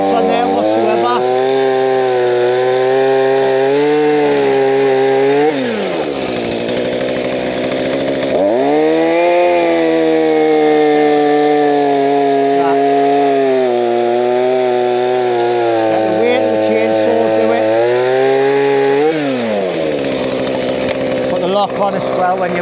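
A chainsaw runs loud and close while cutting firewood, its engine note holding steady and then dipping and climbing again as the blade works through the wood, with short drops between passes.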